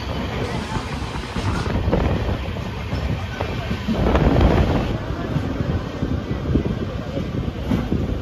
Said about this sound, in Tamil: 60 தான் வண்டி போய்கிட்டு இருக்கு